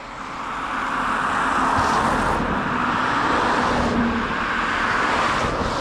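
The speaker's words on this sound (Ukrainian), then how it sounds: "поїхали зустрічні машини" A steady stream of oncoming cars rushes past on a roadside in Transtrand, Sweden, tire and engine noise swelling and fading as each vehicle goes by, close and loud.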